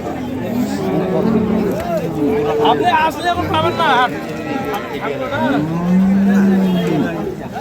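Dairy cows mooing at a busy livestock market, several drawn-out low moos near and mid-distance over crowd chatter and bargaining voices.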